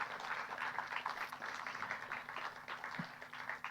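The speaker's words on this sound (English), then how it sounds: "Can we have a round of applause for them, please?" An indoor audience at a fine art award event gives sustained applause for awardees, dense clapping at moderate level, with no speech.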